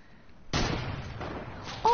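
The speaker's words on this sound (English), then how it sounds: "They're sniping at me." Sniper gunfire in a shooter video game sounds as one sudden loud crack about halfway through, leaving a sustained noisy tail, with a sharp high ping near the end.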